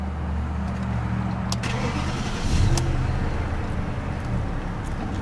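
A 2001 BMW 740i with 83,000 miles on it starting up, a brief crank and catch followed by a steady, close, low idle hum that rises slightly before settling, with no talk over it.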